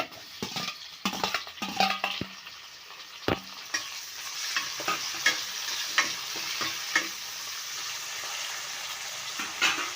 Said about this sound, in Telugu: కొంచెం ఆనియన్స్ వేగనిద్దాం ఓకే ఆనియన్స్ వేగాయి